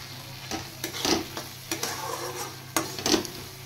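Thick boiled lentils land in a hot pan over spices and sizzle, with a few soft stirring scrapes spaced through it; quiet and close, no talking.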